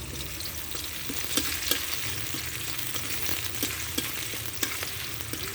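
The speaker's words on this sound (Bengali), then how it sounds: "তেলটা গরম হয়ে গেছে এবার পেঁয়াজ দেবো, সামান্য একটু লবণ দেবো, লবণটা দিলে পেঁয়াজটা তাড়াতাড়ি ভাজা হয়ে যায়" Sliced onions with a pinch of salt fry in hot oil for a chicken curry, giving a steady, close sizzle broken by occasional sharp stirring scrapes and ticks, with no voices.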